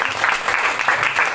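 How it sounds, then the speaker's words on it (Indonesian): Classroom audience of students claps briefly, a dense close patter lasting just over a second. "Lagi, tepuk tangan lagi"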